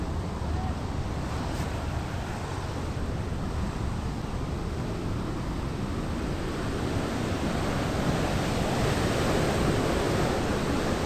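Floodwater rushes at high pressure at Hari ke Pattan, a steady, dense roar that holds unbroken and loud throughout with no pauses.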